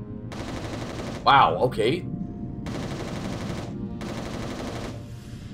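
Gunfire from the video game Resistance Retribution, with sustained bursts of weapon fire under steady game noise and a brief exclaimed voice reacting partway through.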